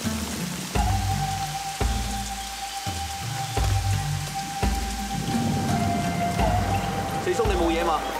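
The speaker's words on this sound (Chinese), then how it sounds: "刚刚遇着大雨，可否行个方便，借个地方避下雨啊？" Heavy rain pours steadily in a loud continuous hiss, with a faint rumble that may be distant thunder, while people talk over it in short bursts.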